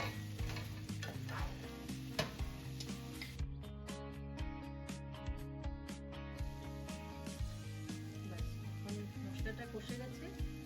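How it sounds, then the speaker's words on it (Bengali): Ginger and green chilli spice paste frying in a pan for an egg curry with cauliflower and potato, giving a steady sizzle with repeated stirring scrapes over a continuous tonal background hum. "এখন মশলাটা একটু কষে যাবে।"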